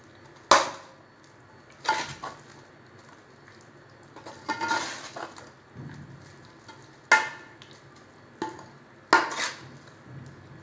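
A metal spoon scraping and knocking against a cooking pot while apple jam is stirred, several separate sharp clinks spaced a second or two apart, fairly close and moderate in level, with no talk.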